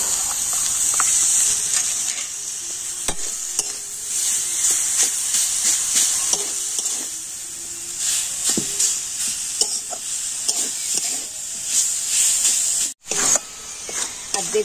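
Jaggery and grated coconut filling stirred in a pan for Bengali apple pitha, with a steady sizzling hiss and soft scraping strokes running throughout, close and continuous.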